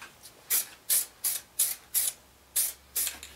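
A can of black spray paint gives about eight short, hissing bursts in a quick irregular rhythm, close by, while coating a door locker.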